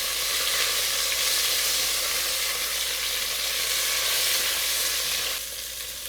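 Beef chunks searing in a pot for stew fill the air with a loud, dense, continuous sizzle that eases slightly in the final second, with no voices.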